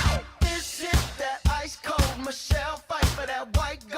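Punchy funk-pop music plays with a tight, driving beat and rhythmic stabs repeating every half second, bright and upfront.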